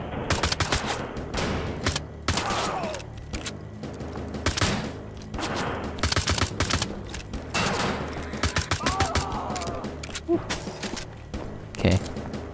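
Gunfire in the video game Wolfenstein: The Old Blood, in a prison level: rapid machine-gun bursts and single shots crack out repeatedly and loudly across the clip, with mechanical clatter between volleys.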